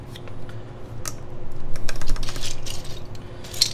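GMK keycaps being pressed onto a keyboard build, a scattered series of small plastic clicks and taps, close and fairly quiet, with no talking.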